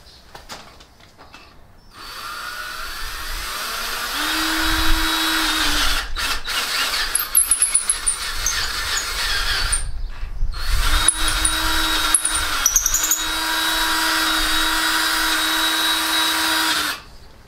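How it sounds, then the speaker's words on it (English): A power drill on low speed whines steadily in several long bursts, stopping and restarting, with sharp metallic squeals as the bit bites through metal on a Jeep YJ front axle. "if you're using a drill for this, set it in low speed and go nice and slow"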